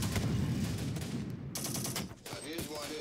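Rapid bursts of gunfire from the war video game Syrian Warfare crackle in dense volleys, loud at first and then thinning into scattered shots toward the end.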